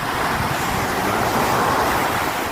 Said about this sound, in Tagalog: Napaka likot na alon ng dagat.